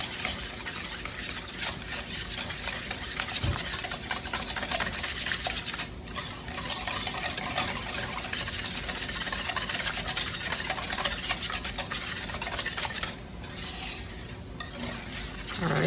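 A whisk beats eggs in a bowl while making meatloaf, producing continuous rapid scraping and clinking against the bowl that stays close and steady, with brief pauses and no talk.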